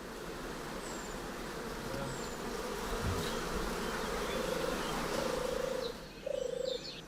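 Bees hum steadily in a forest, a continuous insect drone with a few louder buzzing passes, heard over faint background noise.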